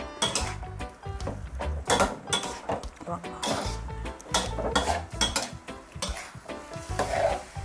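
Straw mushrooms with green onion and chili are stir-fried in a pan, loud sizzling under repeated metal spatula scrapes and clanks against the pan in a busy uneven rhythm, no voices.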